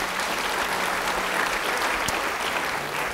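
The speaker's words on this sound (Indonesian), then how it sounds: "Yang percaya beri tepuk tangan bagi Dia." A church congregation applauds during a sermon, with steady, dense clapping that fills the room at an even level throughout.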